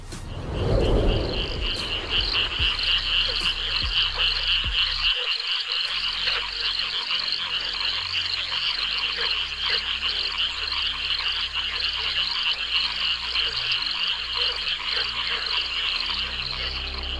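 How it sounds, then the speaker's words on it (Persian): A dense chorus of frogs croaks continuously and loudly for the whole stretch, with rapid overlapping calls and a brief low thump near the start. "تمام زمینن گزگج پوره بستی."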